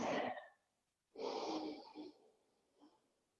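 Breathing during yoga while resting in child's pose, forehead down and hips to heels: a sharp close exhale, then a longer, louder breath with a ragged tail and a faint final puff, no talk.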